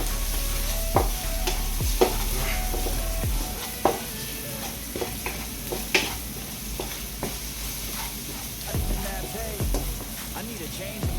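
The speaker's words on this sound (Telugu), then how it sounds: "కారపొడి వేసుకున్నాము రుచికి సరిపోయేట్టు వేసుకోండి బాగా కలపండి" Egg fried rice made from leftover white rice being stirred with chili powder in a hot pan, a steady sizzle under repeated scraping and clacking spoon strokes throughout.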